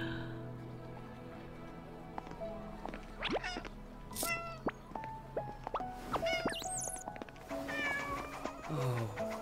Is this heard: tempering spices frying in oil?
no